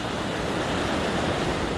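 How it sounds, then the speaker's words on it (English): Rushing water of the South Fork of the American River, running high above its usual small-stream level, roars steadily and broadly at close range with no pauses and no voices. "I'm going to cross the South Fork of the American River, which they say is usually a small stream, but not today"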